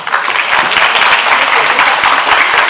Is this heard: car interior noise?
no